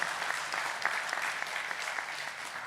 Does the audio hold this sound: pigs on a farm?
no